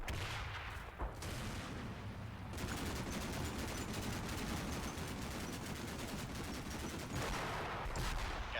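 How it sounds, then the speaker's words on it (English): Machine gun fire from a Humvee in the military strategy video game Combat Mission Shock Force, a steady, dense rattle of distant automatic fire heard faintly and continuously, with no voices. "So that MG fight, we can see, we can trace a line. It's coming from what I assume is a Humvee"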